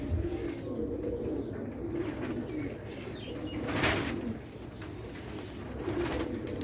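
Pigeons coo on a rooftop in Sialkot, a dense, continuous layer of low, throaty calls from several birds nearby, with a brief flutter of wings partway through.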